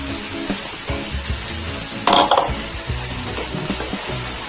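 Garlic, ginger and onion frying with half a kilo of minced meat in a pan, a steady close sizzle broken by stirring scrapes and one louder clatter midway.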